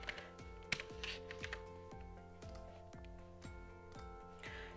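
Keys clacking on a computer keyboard while code is typed into an editor, a steady run of close, crisp taps over a faint tonal hum, with no talking.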